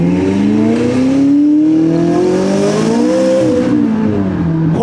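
McLaren sports car engine accelerating hard, a loud, close, rising exhaust note that climbs steadily in pitch, dips briefly, then pulls again, with no one talking.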